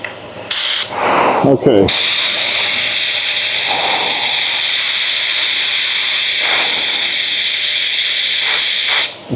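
A spray gun lays a fine, atomized tack coat of clear coat on a Honda. The steady, loud hiss runs continuously after a brief spoken word and a few handling noises at the start.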